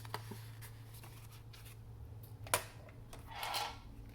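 A folded designer paper card being creased shut, soft scraping and rubbing strokes of paper with a few light taps, quiet and close, swelling briefly near the end.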